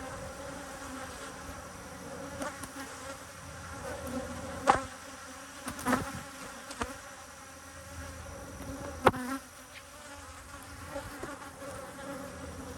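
Honey bees buzz steadily around an open backyard hive, a dense continuous drone close by, with several sharper knocks and handling sounds standing out now and then.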